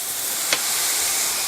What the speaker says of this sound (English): That's a pretty good sizzle.